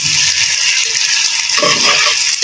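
Chillies, chopped onion, ginger and garlic fried gently in beef fat for khichuri, giving a continuous close sizzle and bubbling, with a brief stirring scrape partway through.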